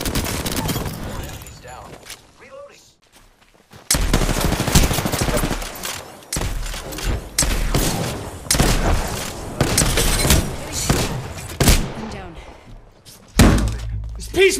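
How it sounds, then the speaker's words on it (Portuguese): Peacemaker shotgun blasts in Apex Legends: heavy, booming shots in rapid bursts amid chaotic battle noise, with a player talking excitedly over the action. "Peacemaker shotgun sucks!"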